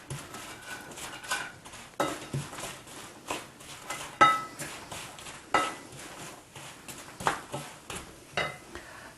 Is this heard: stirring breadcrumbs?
yes